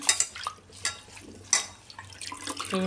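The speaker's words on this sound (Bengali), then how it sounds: "এইভাবে জলটা চেঞ্জ করে ভালো করে ধুয়ে নিচ্ছি" Soaked jute leaves being rinsed by hand in a bowl of water, with several splashy sloshing bursts and light dripping at close range.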